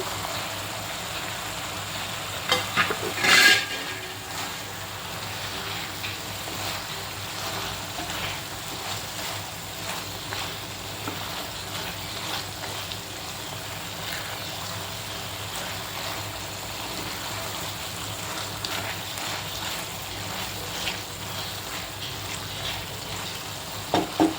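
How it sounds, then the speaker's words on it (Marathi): Roasted okra going into a simmering masala gravy for dhaba-style bhendi masala, a soft continuous bubbling sizzle with a sharp clink of a spoon against the pan early on, then low steady cooking noise. "आता ह्या स्टेजला आपण इथे भेंडी, भाजून घेतलेली भेंडी टाकून घेऊया"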